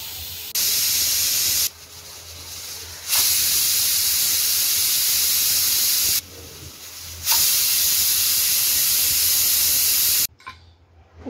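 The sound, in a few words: pressure cooker whistling and releasing steam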